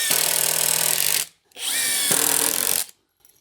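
A power drill whirs in two loud bursts, each over a second long, separated by a brief pause, with a slight rise in pitch as a self-drilling screw drives into plywood.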